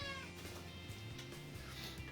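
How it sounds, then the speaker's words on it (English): A pet cat meows insistently, its calls faint against a steady background hum, with no one talking. "He won't stop meowing, because he wants his uppies"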